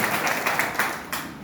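Crowd at a political rally applauding to welcome a speaker, a short burst of dense clapping with no talk.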